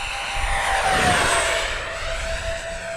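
An Arrows Hobby MiG-29 Fulcrum RC jet roars past low and loud over a grass field, with its whine rising and falling as it goes by.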